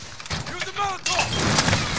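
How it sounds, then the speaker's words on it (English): A Molotov cocktail is thrown in the Warzone video game: a sharp shatter and crash cuts in midway through dense gameplay noise, with a player's voice talking over it. "Use the Molotov."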